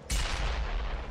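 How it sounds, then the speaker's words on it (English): A sudden, loud explosion booms in the Dead Island Riptide video game, hitting hard at once and rolling on as a dense, rumbling roar that fades only slightly through the second. "Yeah, I heard an explosion."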